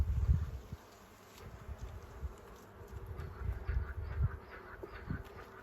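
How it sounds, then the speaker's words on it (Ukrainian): Low, soft buzzing of honeybees close by at a hive frame, continuous with small rustles and bumps, no voices. "тут збирається бджола"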